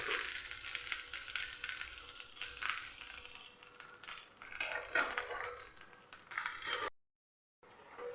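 Tomato dosa frying on a hot pan, a steady close sizzle with faint scraping and clinks, broken by a brief silent gap near the end.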